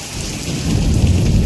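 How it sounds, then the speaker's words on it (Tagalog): Heavy rain pours down steadily in Batangas with a deep rumble of thunder rolling underneath, loud and enveloping, no voices. "Oh, lakas ng thunderstorm."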